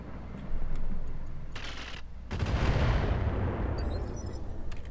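Gunfire and explosive weapon blasts strike a Piranha mech in the Roguetech BattleTech game, with a sharp burst followed by a heavy, rumbling barrage that stays loud and continuous.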